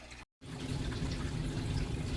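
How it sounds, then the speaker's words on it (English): Distilled water poured into a hydroponic growing machine gives a steady, close gushing fill sound that runs continuously after a brief cut of silence near the start. "I'm about to pour this distilled water into machine number 1."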